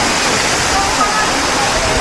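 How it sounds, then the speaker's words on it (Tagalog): Cold water rushes loudly and continuously down the stream in Miryang Ice Valley, a dense, steady roar with a voice faintly present beneath it. "Ayan, tayo lumaagos yung tubig,"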